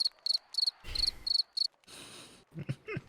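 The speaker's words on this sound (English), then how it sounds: "you gonna give me crickets?" Crickets chirp in a sound effect: several short, bright, evenly spaced trills, followed by a stretch of noise and brief low thumps near the end.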